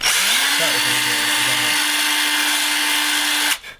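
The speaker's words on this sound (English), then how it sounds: "Now we're just going to take this drill and this hole." A power drill whirs steadily while boring a hole in a small hinge for a DIY FPV pan-tilt mount, a loud, close, continuous buzz lasting a few seconds before cutting off abruptly.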